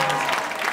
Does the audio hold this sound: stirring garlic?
no